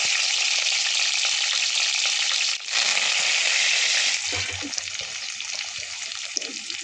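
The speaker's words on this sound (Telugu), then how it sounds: "నూనె బాగా వేడెక్కాక 3 పచ్చిమిర్చీలు," Green chillies fry in hot oil in a pan, making a loud, steady, close sizzle that eases slightly near the end as faint clinks of stirring come through.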